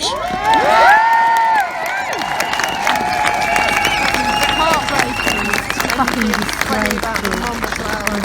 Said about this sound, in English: I keep hearing cheering from somewhere else